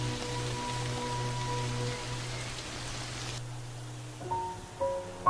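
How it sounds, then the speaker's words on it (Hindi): Steady rain falls with a soft, even hiss throughout, joined by a faint tonal hum that fades out near the end. "ये बेमौसमी बारिश बंद होने का नाम ही नहीं ले रही।"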